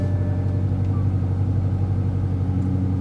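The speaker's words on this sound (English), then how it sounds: "I'll start the car" A cold BMW M5 with a DCT gearbox idles steadily, a low, even engine rumble close by with no talk.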